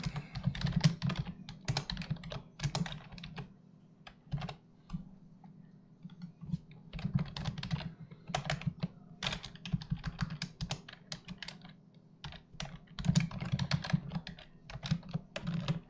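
Rapid bursts of keystrokes on a computer keyboard during a live coding session, clattering in uneven runs with short pauses between them, close and fairly loud, with no one speaking.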